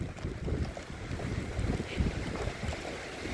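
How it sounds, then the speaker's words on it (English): Wind gusting outdoors beside a group of central air conditioners, a dense low rumble buffeting the microphone steadily and loudly for a few seconds with no other clear sound. "it's windy out here"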